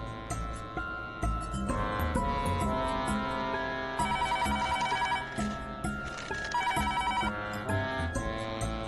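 A telephone rings again and again without being answered, its repeating tones close and clear, mixed with background music.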